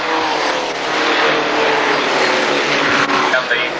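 A bunched field of Formula Vee race cars streams past at Amaroo on the first of 10 laps, a loud dense engine roar that swells and holds as the pack goes by, with a commentator talking over it.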